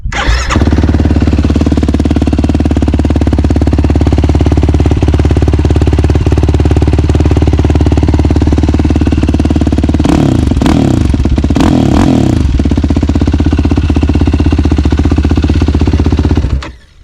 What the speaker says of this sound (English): We'll start it up, turn the key on, hit our starter.